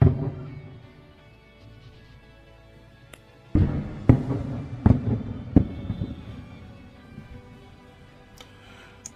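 Bombing at Nova Kakhovka in the Kherson region, at the bridge by the dam: a series of sharp distant blasts and cracks after an initial rumble, several sudden thuds in quick succession, then fading, with no speech.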